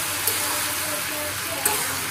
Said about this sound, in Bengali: কচু ভাজাটা মোটামুটি চলছে, কচু ভাজাটা মোটামুটি হয়ে গেছে